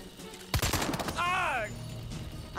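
A Barrett M99 sniper rifle fires in the video game Jagged Alliance: Rage: one loud, sharp shot rings out with a short tail, and a voice speaks briefly soon after.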